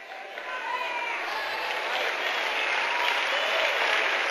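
Congregation applauding during a church sermon, a steady, dense wash of clapping that holds at an even level throughout, with crowd murmur blended in.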